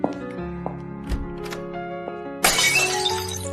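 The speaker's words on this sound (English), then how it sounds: "Behind me, I heard the sound of a teacup shattering." A teacup shatters with a sudden bright crash of breaking ceramic, preceded by a few small clicks and knocks over a low background hum, close and fairly loud with no talking.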